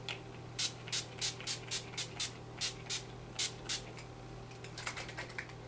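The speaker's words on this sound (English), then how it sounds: "I'm going to close my eyes and then spritz all over" Setting spray spritzes over a face in a quick, close series of about a dozen short hissing bursts. A few faint spritzes follow at the end, with no talking.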